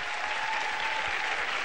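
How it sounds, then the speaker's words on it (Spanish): A Spanish TV studio audience welcomes a pop duo onto a music show in 2000 with loud, dense, continuous applause filling the room. "lo primero que vamos a hacer va a ser recibirlos con un muy fuerte aplauso"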